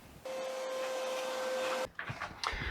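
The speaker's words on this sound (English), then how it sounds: "I think we'll just use the orbital sander." Orbital sander running on wood while fitting a seat in a wooden dinghy build, a steady loud whine with a constant tone for about a second and a half, then cutting off to quieter handling noises.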